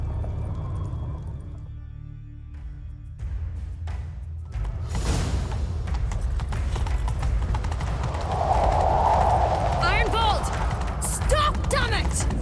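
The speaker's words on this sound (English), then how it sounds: "Grab a horse, we'll chase him down." Horse hooves clatter rapidly in a gallop amid The Witcher 3 game sound effects, with a whoosh and speech over the top.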